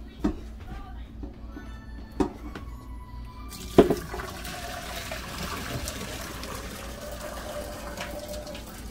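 Cooked egg noodles are drained in a kitchen sink, giving a steady rush of pouring water after a few clanks of the pot, at moderate loudness.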